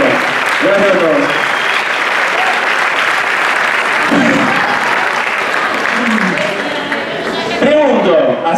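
A large theater audience at a choreographic dance show applauds in a loud, steady wash of clapping that lasts throughout, with cheers and voices rising over it at moments.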